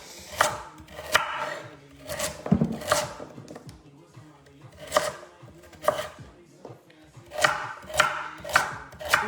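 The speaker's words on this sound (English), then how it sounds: "So I'm just chopping up the carrot now." A knife chops a carrot into rounds on a board, giving crisp, close cuts that come in short, uneven bursts separated by brief pauses.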